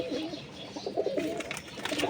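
A pigeon coos repeatedly in low, throaty rolling phrases at close range, with faint background noise and little talk.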